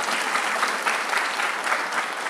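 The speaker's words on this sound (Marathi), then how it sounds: "याला टाळ्या म्हणतात का तुमच्याकडे?" An audience claps at a speech, a dense, even wash of applause sustained throughout at moderate loudness.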